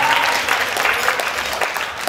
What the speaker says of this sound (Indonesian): Sekali lagi tepuk tangan yang meriah.